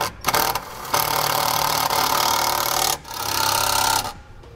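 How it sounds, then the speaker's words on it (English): A power driver with an 8mm socket runs a self-tapping screw into a 2006 Beaver Monterey motorhome, giving a loud, steady motor whine in two long bursts separated by a brief pause. "We'll run this self-tapping screw in using an 8mm socket."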